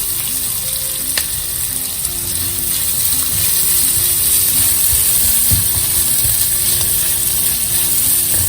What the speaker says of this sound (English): fry the onions for another 5 minutes